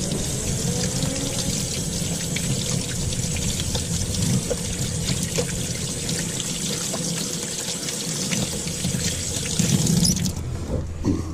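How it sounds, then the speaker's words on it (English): Cleaned blue crab rinsed under running water, a steady hissing tap stream splashing continuously at close range with faint handling sounds. "come over here and just rinse all this stuff out."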